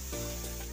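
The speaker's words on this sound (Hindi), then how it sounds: "अपने गाजर को अच्छे से भून लेंगे।" Grated carrots roasting in a hot pan for gajar halwa give off a steady, close sizzle, a continuous frying hiss with no voices over it.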